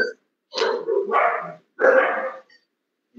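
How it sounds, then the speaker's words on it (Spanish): Several dogs barking in short, loud bursts close by, in two or three clusters separated by brief pauses. "Vamos a esperar que los perros se callen."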